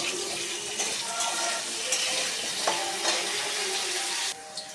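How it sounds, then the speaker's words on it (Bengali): Cut pumpkin pieces frying in hot oil in a pan for a mixed-vegetable masoor dal, giving a steady close hissing sizzle with a few light bumps, cutting off abruptly near the end. "আমি কুমড়োটাও ভেজে নেবো একটু"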